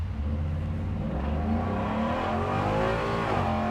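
A 1977 Ford F-150 fitted with a Coyote engine launches uphill from a stop, its V8 roaring loud and continuous as the revs climb steadily through the gear, close by and alone.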